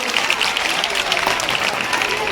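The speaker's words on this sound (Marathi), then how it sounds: "जोरदार टाळ्या दिदीसाठी" Loud, dense applause from the crowd at a school student felicitation event, continuous clapping throughout with no pause.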